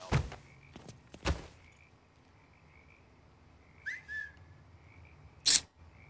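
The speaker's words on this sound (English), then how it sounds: "They don't hear me whistling?" A game character in Mafia 3 gives a short, clear whistle partway through, set between a few heavy thumps and quiet background ambience.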